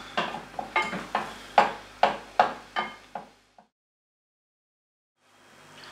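A spoon knocks and scrapes through pizza sauce in a pan, roughly nine evenly spaced, close and crisp strokes, then the sound stops and leaves near silence before faint background noise returns.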